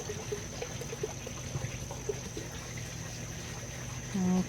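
Clonex clone solution is poured from a bottle into a fogponics propagation system for hydrangea cuttings, a quiet, steady liquid trickle over a constant background hum.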